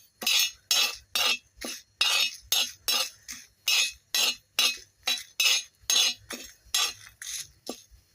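Fenugreek seeds and spices being stirred and roasted in a metal pan, a steady rhythm of about fifteen scraping, clinking strokes from a spoon against the pan over eight seconds, close and clear with no talk.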